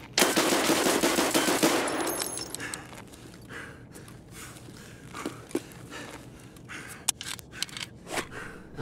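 Rapid gunfire erupts in an Escape from Tarkov match, a dense burst of close shots for about two seconds, then scattered single sharp pistol cracks and footsteps in a quieter stretch.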